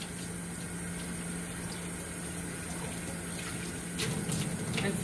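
Water runs steadily while soap is rinsed from a dog food dish at a dog run, giving a constant close rushing hiss with a steady hum. The flow swells and splashes more toward the end.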